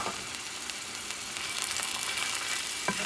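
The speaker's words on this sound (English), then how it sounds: "as I saute the sofrito, or if you choose the onion" Sofrito of onions, green pepper, culantro and cilantro sautés in a pan for rice with chorizo, a soft even hiss of frying with occasional faint clicks and one sharper knock near the end.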